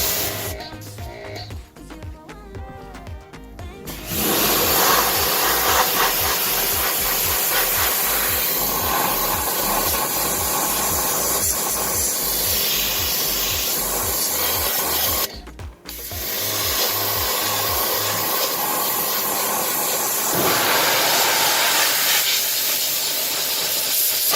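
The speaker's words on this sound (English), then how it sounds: "I'm going to take the 20-degree angle pressure washer head and see if that takes the Plasti Dip off" Pressure washer with a 20-degree nozzle blasting Plasti Dip off car wheels, a loud, close, continuous hissing spray broken by two brief pauses while the pump motor pulses underneath.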